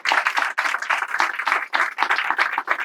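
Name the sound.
applause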